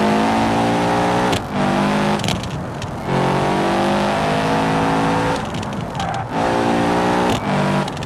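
Rally car with a bypass-type anti-lag system in BeamNG.drive, its engine revving loudly and continuously with repeated throttle lifts bringing crackling, popping bursts at regular intervals.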